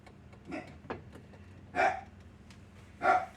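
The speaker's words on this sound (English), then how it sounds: "You can hear my guard dog in the back." A guard dog barks a few times in the background of a quiet kitchen, two louder distinct barks standing out among fainter sounds, with no talking.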